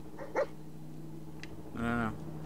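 A dog in the Fallout 4 video game gives two short barks, then a longer whimpering whine, with a steady low game hum underneath.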